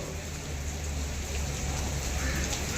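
Heavy rain pours steadily over an outdoor protest, a dense, even hiss of drops on surfaces that holds at constant strength throughout, close and without pause.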